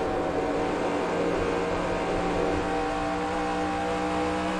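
A NASCAR Next Gen stock car engine at Darlington in the NASCAR Racing 2003 game hums continuously as the throttle is eased and held on the straight, a dense, even drone with no talk.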